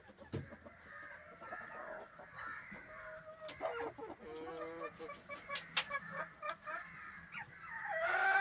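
Native chickens, among them roosters, dust bathe in soil, giving faint, scattered clucks and chirps over low scuffling that grows louder toward the end.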